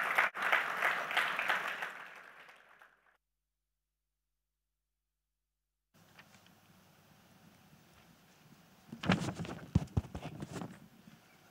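Audience applause at a tax and business compliance seminar: clapping fades out over three seconds, then silence, then a quieter room and a fresh short burst of claps near the end.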